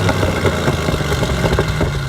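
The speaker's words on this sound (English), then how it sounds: "that's the exhaust note, which is pleasantly unsubtle" Chevy SS V8 exhaust gives a loud, deep, rough burble with a steady throb throughout, close up and with no talk.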